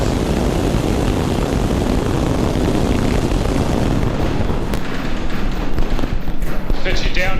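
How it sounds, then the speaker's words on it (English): SpaceX Starship V3 with Booster B19 lifts off on its twelfth flight test, a continuous loud, broadband rocket roar that crackles and rumbles steadily throughout. "We have liftoff."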